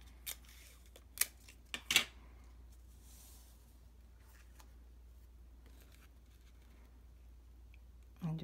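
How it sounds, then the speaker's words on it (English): Ribbon scissors cut a piece of ribbon: a few brief, close snips and rustles early on, then near quiet with faint handling noise. "my ribbon scissors, and we'll just cut a piece"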